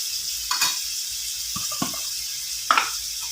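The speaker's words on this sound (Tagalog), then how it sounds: "Gigisa natin guys ang ating sibuyas at bawang." Onion and garlic sauté in a hot pan for chopsuey, a steady sizzle broken by a few scraping stirs and clinks of the utensil.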